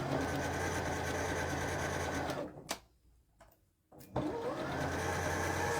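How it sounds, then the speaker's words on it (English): A sewing machine runs steadily while stitching a collar, loud and close, then stops briefly for a second or so before starting up again and continuing at the same pace. "I've turned the corner so I can stitch towards the other end."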